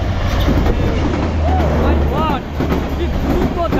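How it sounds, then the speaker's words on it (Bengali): The Maitree Express passenger train races past a run-down station at speed, a loud, close, continuous rumble and rattle of wagons with a few squeals, while someone talks over it. "দেখুন একবার মৈত্রী এক্সপ্রেস ট্রেনটি আসতেছে"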